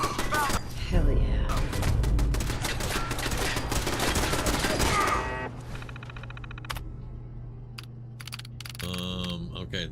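Automated turret gunfire in Fallout 4 clatters in dense rapid bursts for the first half, then drops back to scattered shots and game sounds beneath a steady hum, with talking throughout.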